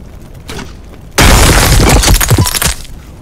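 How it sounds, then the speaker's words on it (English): A loud, sudden explosion in the video game Xenonauts 2 bursts in and then breaks up into crackling, shattering debris that fades over a couple of seconds. "I gotta love how it explodes though"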